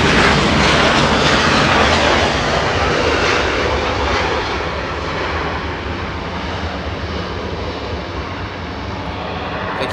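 Air China heavy jet departing Los Angeles International Airport, a loud, full jet engine roar at the start that eases slightly and then continues as a steady rumble, with no talk.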